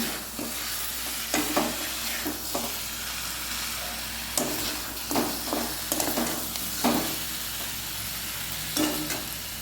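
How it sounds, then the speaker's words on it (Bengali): Meat stir-fried in a spice masala in a pan, making a steady sizzle broken by repeated scraping stirs at irregular intervals, close and moderately loud, with no talking. "এই যে এই দেখো মশলার মধ্যে মাংসটা আমি দিয়ে দিয়েছি, আর এখন আরও একটু এভাবে কষিয়ে নেব।"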